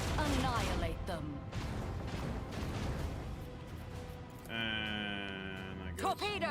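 Macro cannons in the Warhammer 40K Rogue Trader video game boom and crash in a dense barrage of heavy blasts, with voices chattering over the din and a ringing tone near the end.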